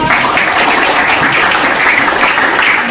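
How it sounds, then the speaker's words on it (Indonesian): Classroom of students applauding at the close of a mathematics lesson, loud, dense and sustained clapping from many hands, close and even throughout. "Tepuk tangan untuk kita semua."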